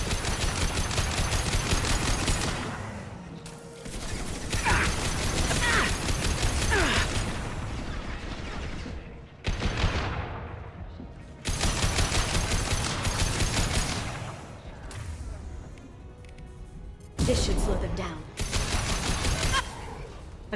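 Sustained bursts of automatic gunfire from a Mass Effect 2 battle against a huge enemy, loud and dense, broken by short pauses, with mechanical whooshes between volleys.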